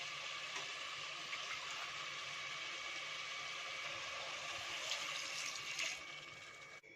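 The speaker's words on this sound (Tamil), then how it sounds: "இந்த சிக்கன் வேக வச்ச தண்ணியை ஊற்றிட்டு" Chicken stock pours steadily into a pressure cooker pot with rice, a continuous splashing hiss that fades out near the end.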